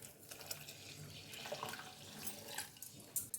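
A jug of water pours into a millet flour mix for a drink, a soft, faint, continuous splashing gush heard close and alone.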